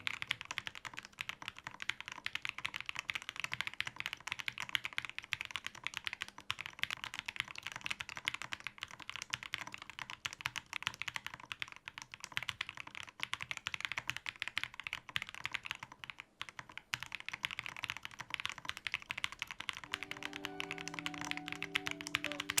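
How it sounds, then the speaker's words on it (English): Fingers type steadily on a mechanical keyboard in a continuous stream of clicky, clacky keystrokes, fairly quiet and close, with a faint tonal hum creeping in near the end. "It took me a very long time before I could do a proper typing test."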